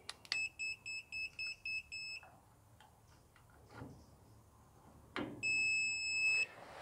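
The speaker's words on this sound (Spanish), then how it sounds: "Y ahora escucharemos unos pitidos y se abrirá la puerta ya que hay luz" An automatic mobile chicken coop door gives six short, evenly spaced electronic beeps, then a longer steady tone a few seconds later. Faint knocks and handling noises fall between them.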